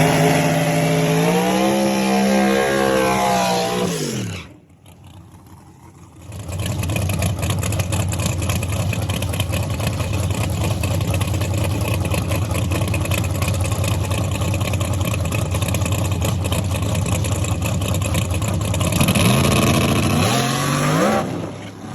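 A Camaro race car with its boost turned up screams through rising gears, then cuts out briefly before roaring back at a sustained, loud wide-open pitch and climbing again near the end.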